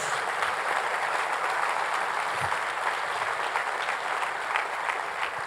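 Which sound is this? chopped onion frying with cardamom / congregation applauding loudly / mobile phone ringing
congregation applauding loudly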